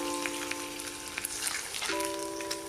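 Beef rib frying in vegetable oil in a pan over medium-low heat, a steady close sizzle with soft crackles and pops throughout, alone with no talk.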